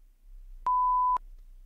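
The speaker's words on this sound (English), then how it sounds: "You can start speaking after the beep." A single steady electronic beep of about half a second, clean and alone over a faint low hum, marking the start of timed IELTS speaking practice.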